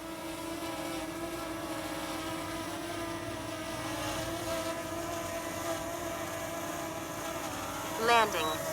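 A Specta Mini drone hovers and comes in to land in moderate wind, its steady propeller whine and buzz constant throughout, with a brief rising chirp near the end as it sets down.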